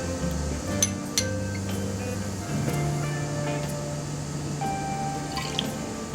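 Mustard, sugar, salt and apple cider vinegar stirred together in a bowl: soft wet squishes and a few light clinks and drips over a steady low background hum.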